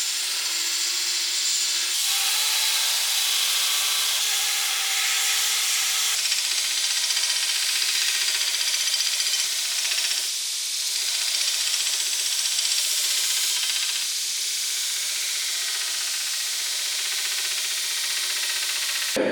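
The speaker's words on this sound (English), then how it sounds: "So, to the grinder we go." Grinder shaping a mosaic Damascus steel belt buckle: a continuous bright, hissing abrasive rasp that holds steady for the whole stretch, with brief dips where the steel is lifted and pressed back against the belt.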